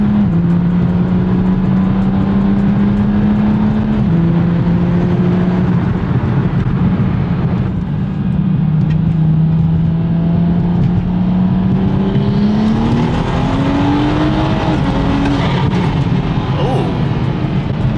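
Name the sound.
car engine revving with exhaust flame pop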